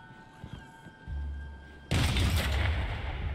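A cannon fires in the fantasy video game Tiny Tina's Wonderlands. A low rumble is followed by one loud, sudden blast that keeps roaring and crackling to the end.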